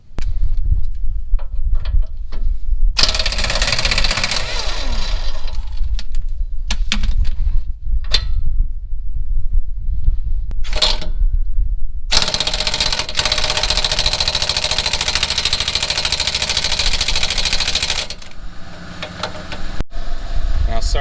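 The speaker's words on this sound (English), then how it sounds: "Sorry guys, the compressor is so loud" An air compressor runs loudly in a garage during work on a Camaro Trans Am or Firebird, cutting in with a steady roar in long stretches, mixed with metallic tool clatter and clinks between runs.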